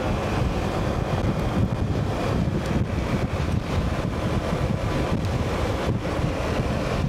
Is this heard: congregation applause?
no